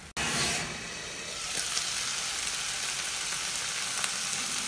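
Beef for string beans con carne sizzling and simmering in a hot pan, a steady loud hiss of frying that carries on alone without talk.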